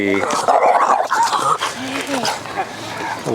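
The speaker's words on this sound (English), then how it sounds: "That's my dog, Frenchie, going nuts." A French Bulldog barks and yelps excitedly, loud and close, with whines and growls between barks, mixed with people talking.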